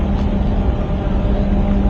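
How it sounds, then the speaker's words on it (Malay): A steady, loud low-frequency rumble from a ship's engine funnel drones continuously with no breaks, like heavy machinery heard from close by below. "Boleh dengar bunyi serombong kapal daripada bawah."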